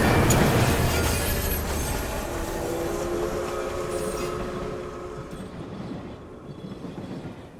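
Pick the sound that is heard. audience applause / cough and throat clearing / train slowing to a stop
train slowing to a stop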